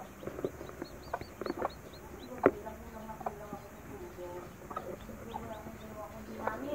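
Hens cluck and peep softly around newly hatched chicks outside a nest, with scattered short calls, one sharper squawk, and a steady insect-like hiss in the background.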